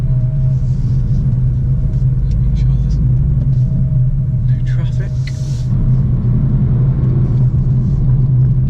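A BMW F82 M4 drives along with its exhaust valves closed, giving a low, steady engine rumble and road drone throughout, with a person talking over it.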